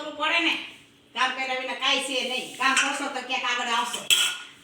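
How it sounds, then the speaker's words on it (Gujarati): Dishes and cutlery clink and clatter as they are washed and wiped by hand at home, close up and mostly under a person talking. "વાસણ લઈ ને એવો વાસણ લુવા બેહાડી તે વાસણ લુવે"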